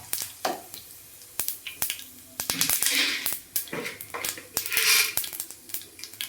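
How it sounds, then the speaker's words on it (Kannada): Cumin seeds tossed into hot oil in a pan while tempering mustard seeds for a vegetable palya, giving a crackle of sizzling and spitting, with sharp clinks of a spoon and utensils against the pan throughout. "ಸ್ವಲ್ಪ ಜೀರಿಗೆ ಹಾಕ್ತಾಯಿದ್ದೀನಿ."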